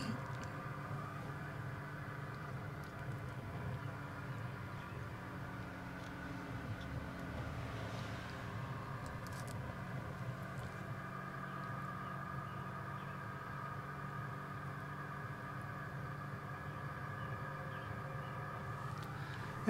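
A 2020 Can-Am Ryker 900 three-wheeler climbs uphill with a steady, droning engine hum and a faint whine, joined by airy road and wind rush, continuous and moderately quiet throughout.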